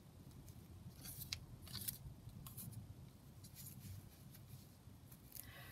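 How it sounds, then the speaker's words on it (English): Scissors snip steadily through fabric at close range, quiet crisp cuts repeating in an uneven rhythm with no talking. "let's go back to doing it with the scissors."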